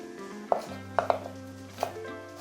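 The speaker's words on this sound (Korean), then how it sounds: "송송송송 썰어가지고 위에 고명처럼 뿌린 다음에" A knife chops Korean water dropwort (minari) finely on a cutting board, a handful of sharp, close taps spaced irregularly over a low steady hum.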